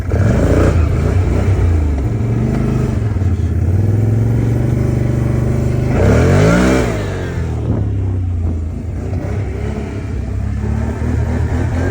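A 2019 Can-Am Outlander 570 ATV engine revs hard while climbing a hill, a loud, close, sustained roar with a sharp rising surge midway before settling back to a steady drone.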